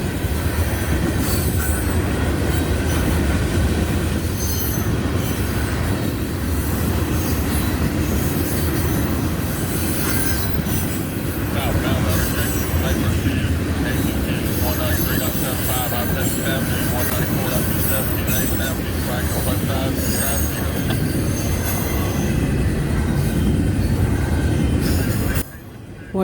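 A long freight train over 10,000 feet, with a huge string of tank cars in the middle, rumbles past close by with continuous wheel roar, rhythmic clacking and occasional squeal, a voice talking over it.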